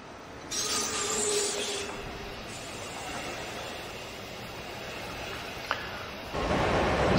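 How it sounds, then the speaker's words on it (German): A regional train from Köln-Deutz to Euskirchen rolls into platform 9 at a station, with a steady rumbling roll of wheels, a faint squeal, a sharp click near the end and a louder surge as it closes in. "auf Gleis 9 fährt ein Regionalbahn L423 von Köln-Nesse-Deutz nach Euskirchen. Bitte Vorsicht bei der Einfahrt."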